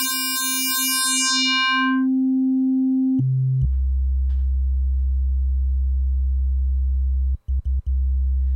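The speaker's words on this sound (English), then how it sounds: "That's that sine wave bass." Sine wave bass from a Korg prologue synthesizer: a bright harmonic tone first, then a pure, deep sustained sine bass that drops lower and holds steadily, briefly cutting out near the end.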